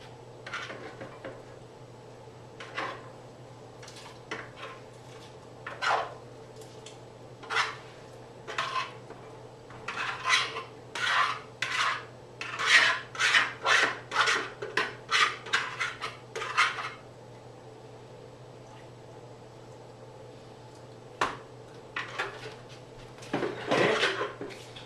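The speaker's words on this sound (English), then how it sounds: "Give it a little stir." A spoon scrapes and knocks around a pot of corn chowder as corn is stirred in, producing a series of close clinking and scraping strokes in irregular bursts, busiest midway, with short pauses between.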